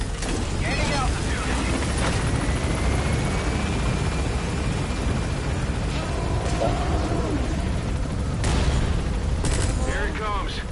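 A helicopter minigun fires in the Metal Gear Solid V video game, a dense continuous roar of rotor noise and rapid gunfire, loud throughout with voices faintly underneath.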